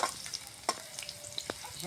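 Freshly washed ghum saag greens fry in a kadai with a faint, low hiss and a few sparse crackles and pops.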